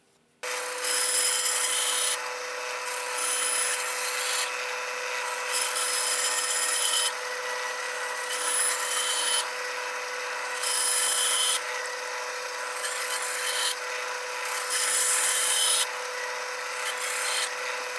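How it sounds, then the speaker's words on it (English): A wooden clamp handle is carved from square stock on a handle making jig with a power tool, giving a steady rasping, grinding whir that cycles louder and softer in regular passes for about seventeen seconds, close and with no talking. "To make the handle, I'm using my handle making jig"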